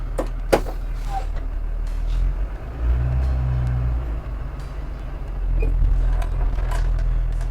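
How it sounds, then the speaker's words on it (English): A bus rolls forward slowly at about 5 mph during a brake test, its engine rumbling low and steady with a few clunks and a soft brake squeal near the end, heard from inside with no talk. "we are going to continue the brake test by pulling forward at 5 miles an hour and stopping"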